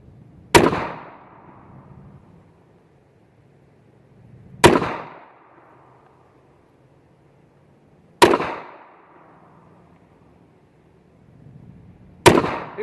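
Four sharp, loud 9mm Makarov pistol shots fired at a target, spaced several seconds apart, each a crisp crack with a short decaying echo, no talking.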